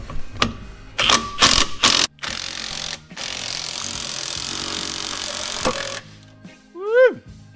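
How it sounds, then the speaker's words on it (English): Work on pulling the torque tube from an AMC Rambler brings quick ratcheting bursts and clanks up close, then a steady mechanical whir, with a rising and falling whistle-like squeal at the end. "This is how I'm taking out this torque tube."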